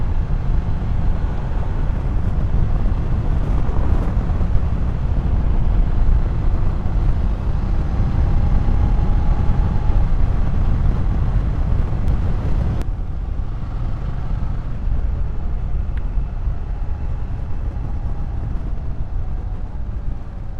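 A 2023 BMW F750 GS Sport motorcycle ridden on winding roads gives a steady, loud engine drone mixed with rushing wind noise, continuous throughout with a slight drop in intensity partway through.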